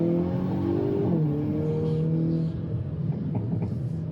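A tuned 2022 Hyundai Kona N with a piggyback tune drones loudly at steady revs, its engine note dropping and settling before faint crackles and pops break through near the end.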